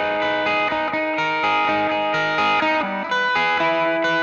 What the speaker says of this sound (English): Turn on the echo.